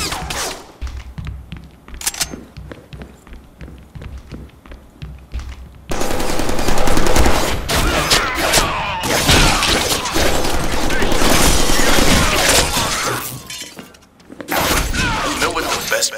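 Rapid automatic gunfire from Deadpool's gun in the Deadpool video game, a castle level, with loud sustained bursts and scattered single shots, impacts and thuds close up, mixed with game speech.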